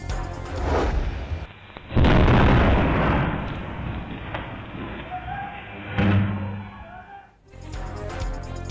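An illegal fireworks factory near Delhi Gate in Multan explodes, caught on CCTV: a loud, rumbling blast with a second heavy boom a few seconds later, then lingering roar and debris noise.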